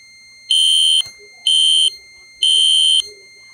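A shrill piezo fire alarm sounds from a Fire-Lite MS-10UD panel in a Roblox game, giving three loud, steady tones of about half a second each with short gaps and faint background murmur between them.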